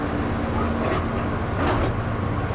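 Train at a Japanese station on an elevated line, a steady loud rumble of wheels and motors with a brief hiss or swell partway through, no voices.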